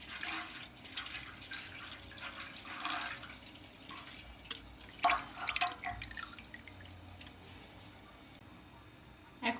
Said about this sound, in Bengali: এখন আমরা গুড়ের শিরাটা দিয়ে দিচ্ছি দুধের মধ্যে